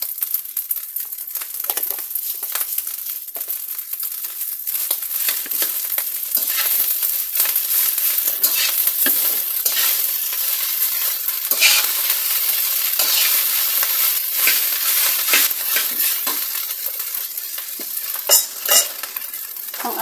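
Garlic fried rice being stir-fried in a pan, a steady sizzle with continuous scraping and stirring of the spatula against the metal, close and loud, with no talking.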